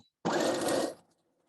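A sewing machine stitching in reverse to reinforce a seam on a thread catcher project, one short steady mechanical whirring burst of under a second, close and alone.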